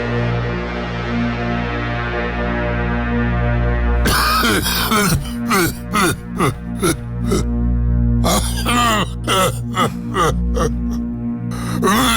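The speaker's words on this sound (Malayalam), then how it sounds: "ചുമ കൂടിയല്ലോ." An adult coughs in a run of sharp bursts indoors, close and loud, after a stretch of steady low hum, with a brief pause before a second cluster of coughs.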